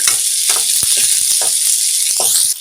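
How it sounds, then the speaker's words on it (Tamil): Lightly fried garlic and two thinly sliced medium onions, salted, sizzle in hot oil in a pan for brinjal kuzhambu; a loud, steady frying hiss runs throughout, broken by intermittent clinks and scrapes of stirring. "பூண்டு லேசாக வறுப்படட்டும் அதோட ரெண்டு மீடியம் சைஸ் வெங்காயத்தை உள்ள சேர்த்துக்கலாம்"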